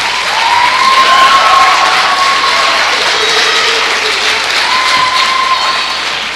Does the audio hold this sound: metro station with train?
no